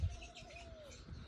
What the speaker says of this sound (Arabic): هذه أنثى طيور حب